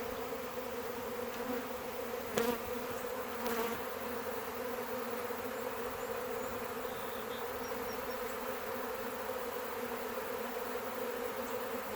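Honey bees in a good-sized swarm keep up a continuous, even buzz, a layered droning hum with a couple of brief louder passes from individual bees flying close, and no voices.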